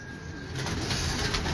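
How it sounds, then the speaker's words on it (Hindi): A pigeon from a pedigree flying bloodline coos on a rooftop in Lahore, a soft, steady cooing with faint background hiss and no voices. "ये जो अभी कबूतर दिखाया था ये उसी का भाई है।"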